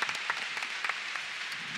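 A K-pop concert crowd claps in a big hall, a soft, distant and steady patter of many hands that continues throughout with no talk over it.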